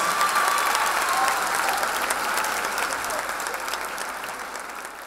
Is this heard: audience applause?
yes